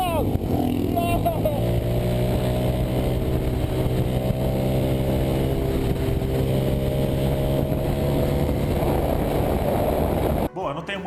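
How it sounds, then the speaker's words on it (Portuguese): A Velocette Venom Thruxton motorcycle engine drones steadily and loudly, its pitch wavering slightly as it runs close by for about ten seconds before cutting off. "a Veloset Venom Truxton veio antes e a moto corria tanto que até hoje ela é capaz de deixar uma Suzuki DRZ 400 Supermoto para trás"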